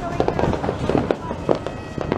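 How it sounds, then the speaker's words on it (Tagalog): New Year's Eve fireworks and firecrackers pop and crackle repeatedly in the neighbourhood all around, a steady stream of irregular bangs at moderate distance, with people talking over them. "Yung paligid namin, no? Puro putukan yan."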